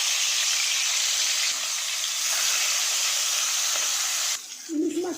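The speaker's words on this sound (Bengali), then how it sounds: "এখন গরম তেলের মধ্যে দিচ্ছি ইলিশ মাছের মাথা।" Hilsa fish heads fry in hot mustard oil with a loud, steady sizzle and hiss that fades near the end.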